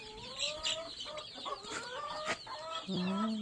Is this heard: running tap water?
no